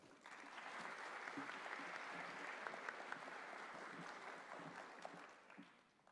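An audience at the inauguration of a labour procedural law congress gives sustained, even applause that starts quickly, holds steady, then thins out toward the end.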